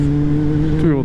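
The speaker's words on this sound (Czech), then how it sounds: "Tyjo, to byl traktor." Tractor passing by on a dirty, little-used country road, a steady low engine drone with a brief rising sweep near the end as it goes past, heard up close under the rider's own engine.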